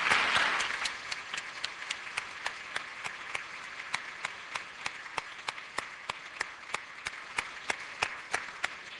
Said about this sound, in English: Why don't we give Sam a big round of applause as well for chairing the whole thing